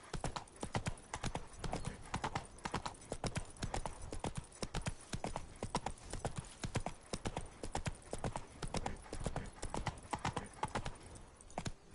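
Hooves of Roach, a horse in The Witcher 3, clip-clop in a steady, close rhythm throughout, each strike sharp and distinct against a light outdoor background.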